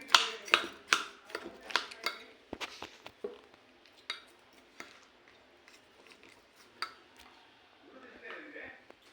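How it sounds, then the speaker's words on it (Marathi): A spoon stirs half a spoon of cardamom powder into a mashed banana and chikoo mixture in a bowl, giving a run of sharp, close scraping and clinking strokes in an uneven rhythm that slow and thin out toward the end. "एक अर्धा चमचा वेलची पावडर सगळं मिक्स करायचं"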